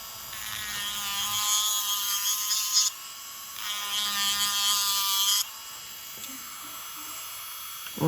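An electric nail file grinding gel polish off a nail produces a high, whining buzz in two sustained bursts, with a short pause between them. A fainter whir follows briefly at the end.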